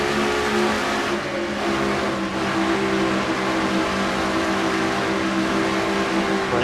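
Stock race car engines roar steadily at a racetrack during a Castrol GTX Cup oval race, a loud continuous drone of several cars at speed with no pause.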